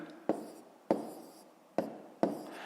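Pen or pencil on paper while working a column multiplication for a fifth-grade math exercise: four sharp taps, each followed by a faint fading scratch, close and quiet in an otherwise silent room.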